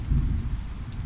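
Steady rain pours down in a heavy, dense hiss with a low rolling rumble of thunder underneath, close and continuous throughout the short stretch, no voices.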